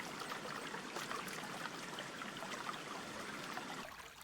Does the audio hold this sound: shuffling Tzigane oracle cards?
no